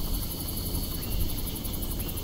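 Helicopter in the Far Cry 1 video game, a steady whirring rotor drone that fills the short stretch evenly at moderate level, with no voices over it.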